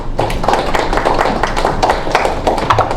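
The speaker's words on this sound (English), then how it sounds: "A round of applause, please." An audience at a Toastmasters club meeting claps steadily and close by, a dense patter of many hands that holds even for about three seconds.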